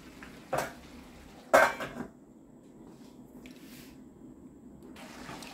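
A metal cooking pot being covered with its lid again: two clanks close by, a light one then a louder ringing one, followed by faint kitchen sounds and a soft bubbling hiss.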